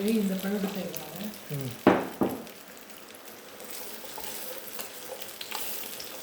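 Dates are mashed and stirred in ghee in a pan, with a soft sizzle and a few hard scraping knocks from the spoon early on, then a lighter, steady crackle. A voice is briefly heard at the start.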